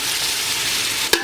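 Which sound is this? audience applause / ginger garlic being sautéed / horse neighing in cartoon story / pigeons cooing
ginger garlic being sautéed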